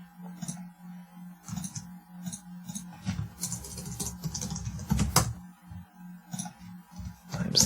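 Computer keyboard typing in a Reaper audio software session, a quick run of light close key clicks in short bursts with brief pauses, ending on a firmer tap.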